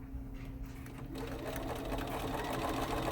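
A sewing machine runs steadily as binding is stitched onto the front of a quilt, a continuous close mechanical whir that grows slightly louder partway through.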